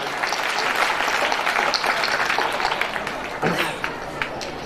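An audience at a school annual function claps loudly and steadily, a dense, sustained wash of many hands with some crowd noise mixed in throughout.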